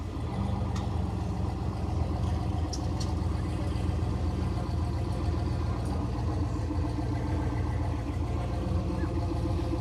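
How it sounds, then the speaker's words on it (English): A twin-turbo Chevrolet Camaro's engine drones steadily at a drag strip, a constant loud mid-pitched rumble mixed with distant crowd and track noise, with no clear revving changes. "Looks like a twin turbo Camaro."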